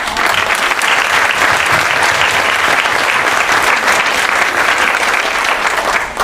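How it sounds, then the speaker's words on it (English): Sustained, dense applause from an audience at an awards ceremony honouring women nominees, steady and loud throughout with no voices on top. "Thank you for that round of applause for these exceptional nominees"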